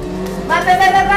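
A loud motorcycle engine in the video game Trials Fusion revs up sharply, rising in pitch over about a second, with a voice shouting over it.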